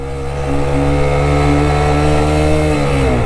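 A motorcycle climbing the steep, hot mountain road to Keokradong in Bandarban, its engine held in first gear and revving hard with a loud, steady, strained drone that barely changes pitch throughout.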